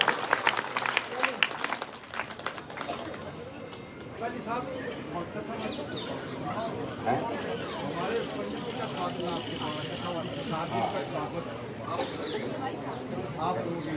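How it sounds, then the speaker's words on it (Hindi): Loud applause from a crowd at a Congress rally in a village, a burst of clapping that fades after a couple of seconds into a murmuring crowd, with voices and other background noise. "जोरदार तालियों की गड़गड़ाहट से"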